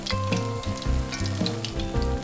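Kakiage fritters frying in hot oil, giving a dense, continuous crackling sizzle with bright popping spatters, close and steady, while soft tonal music plays underneath.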